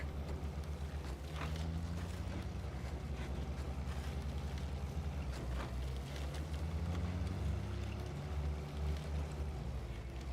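Vehicle engine in a PS5 game droning steadily while driving over grass, a continuous low rumble with shifting tones, loud and sustained for the whole stretch with no talk.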